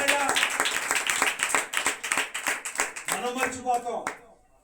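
A congregation at a family fasting prayer service claps loudly in a quick, steady rhythm while a preacher keeps talking over it, and the claps stop near the end.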